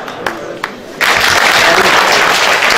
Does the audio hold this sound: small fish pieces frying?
no